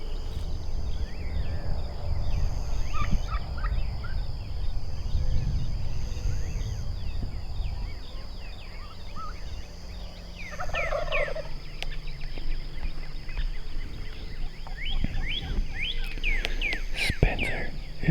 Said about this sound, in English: You can hear like 2 or 3 hens yelping and 1 or 2 gobblers